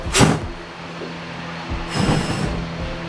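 A V8 engine swapped into a Nissan S14 cranks over slowly in two sluggish bursts, each a strained whirring turn separated by a quiet pause, close and without speech.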